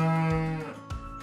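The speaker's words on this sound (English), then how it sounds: "Yes, a cow." A single cow moos: one long, deep, droning call that fades out, heard on its own without any voices.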